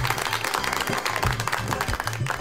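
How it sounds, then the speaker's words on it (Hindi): An audience at a 14 August Independence Day celebration claps for children, giving a steady, fairly loud round of applause that lasts the whole stretch. "शाबाश बेटा, तालियां बच्चों के लिए।"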